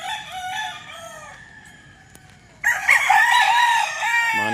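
Roosters at a chicken farm in Bauang, La Union: a rooster's crow and soft clucks at first, then a louder overlapping burst of crowing from several birds nearby.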